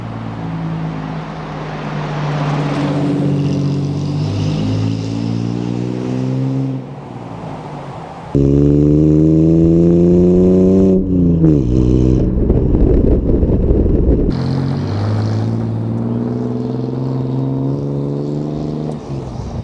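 A lifted 2011 Ford Ranger pickup's loud exhaust revs up repeatedly, rising and falling in pitch with deep rumbling, then holds a steady throaty idle between bursts.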